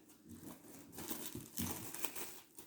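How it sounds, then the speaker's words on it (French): Plastic cling film crinkles as it is pressed down onto chocolate ganache for a chocolate tart, soft close rustling and crackling in uneven bursts, fairly quiet and with no voices. "on va coller le film alimentaire"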